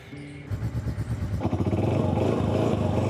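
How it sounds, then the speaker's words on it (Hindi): A motorcycle on a rural road in Punjab starts up and then runs steadily with a loud, close engine drone that continues to the end, with no talking. "ये ट्रिप भी मोटर बाइक पर है क्योंकि मोटरसाइकिल पर जाने का अपना ही एक मज़ा है।"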